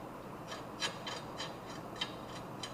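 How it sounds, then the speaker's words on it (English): A brake rotor is worked off the wheel hub of a Nissan G35 drift car, giving faint, rhythmic scraping and rasping metal rubs roughly twice a second against a quiet background. "This rotor's coming off a lot easier than the other side did."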